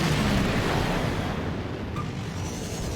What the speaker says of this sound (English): Shots fly faster and explode into sort of like a cluster bomb of sorts